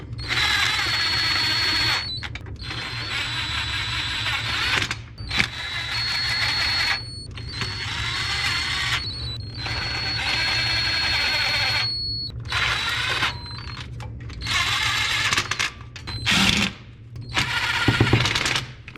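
Starter mounting bolts on a 2001-07 Toyota Sequoia are snugged with a power tool in repeated loud, buzzing bursts of a few seconds each, separated by short pauses, close to the microphone.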